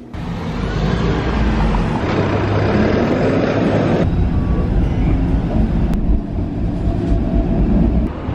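A Toronto streetcar runs downtown with a loud, steady rumble and broadband rattling from wheels and track. The noise shifts abruptly in tone partway through, and no voices are heard.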